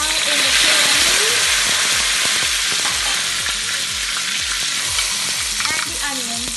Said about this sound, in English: As you can see, you gotta be very careful. The oil splatters everywhere.